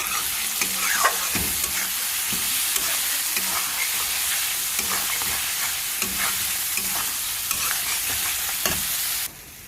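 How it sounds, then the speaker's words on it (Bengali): Catla fish frying in oil in a home kitchen pan, a steady close hiss and crackle of sizzling with intermittent stirring clicks throughout, no talk. "এই যে হলো কাতল মাছ ভাজা"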